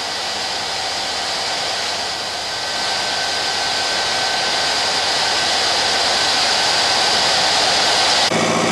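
A pneumatic crop sprayer's fan runs steadily with a loud, continuous airy whoosh and whine, holding constant for several seconds before cutting abruptly at the end.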